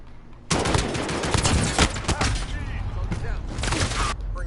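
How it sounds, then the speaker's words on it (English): Rapid automatic gunfire from a team deathmatch shooter on PS4, dense bursts of shots with short gaps between them, loud and close, with players talking over it. "I got a gun I wanna shoot too."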